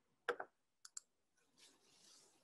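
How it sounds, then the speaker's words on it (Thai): A computer mouse clicks sharply up close, first a single click, then a quick double click, followed by a faint rustle in a quiet room. "นี่คือการคลิกเมาส์ครั้งที่3"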